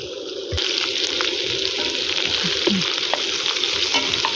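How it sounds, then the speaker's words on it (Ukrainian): Food fries in fat in a pot over a campfire outdoors, with a constant close sizzle and crackle and a few soft stirring knocks and scrapes, no talk. "Фаєр, фаєр, вогонь, вогонь. І смажиться."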